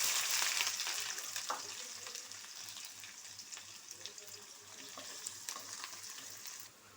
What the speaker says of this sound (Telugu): మనకి ఆనియన్స్ కొంచెం మగ్గింది